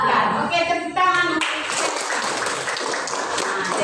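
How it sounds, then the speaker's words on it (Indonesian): A classroom of children clapping hands together, a quick patter of claps that gives way to a broader burst of clapping with young voices chattering underneath. "Oke, tepuk tangan."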